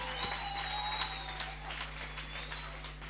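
A church audience at an evening youth seminar breaks into sustained applause, dense clapping filling the hall at a steady level with a faint tone and hum beneath.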